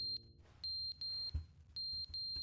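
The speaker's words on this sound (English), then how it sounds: "There's a beeping." Electronic beeping like a smoke alarm: a series of sharp, high, evenly pitched beeps, some in quick pairs, fairly loud and close, with faint room noise between.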